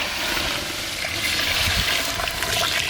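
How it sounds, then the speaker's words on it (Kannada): Water being poured onto 3 kg of sugar to make sugar syrup for badusha, a steady splashing pour with continuous broadband liquid noise, fairly close and alone without talk. "ನೀರು ಹಾಕೊಳ್ಳೋಣ."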